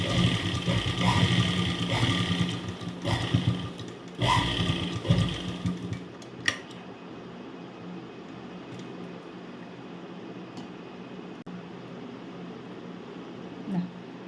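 A sewing machine stitches fabric in a home sewing lesson, a close steady mechanical whir for several seconds that stops, then a quiet room with faint handling sounds.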